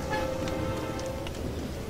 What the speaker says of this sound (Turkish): Yağmur, yani yazın bu sıcağında böyle yağmur yağıyorsa